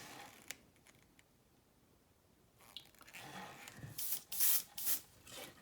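Airbrush spraying thinned matte flat varnish, faint at first, then several short close hissing bursts near the end.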